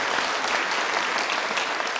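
A crowd at a United Conservative Party of Alberta leadership debate gives a round of applause, steady and fairly loud clapping filling the whole short stretch without a break.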